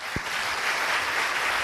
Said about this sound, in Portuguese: Palmas. Palmas para o Fabiano.